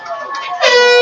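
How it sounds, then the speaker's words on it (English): An air horn blares from the crowd at a high school football game, one loud, sustained brassy blast that swells and holds, with a voice talking over it. "There's that air horn. Somebody brought it to the game."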